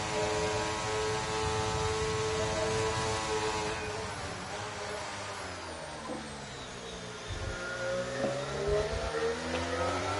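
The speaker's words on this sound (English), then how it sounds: "See Marley lifting off the throttle there" A racing car engine in the video game Project Gotham Racing, on a Las Vegas circuit, holds a steady high rev, then the throttle is lifted off and the pitch drops and wavers before climbing again, loud and continuous with no talk.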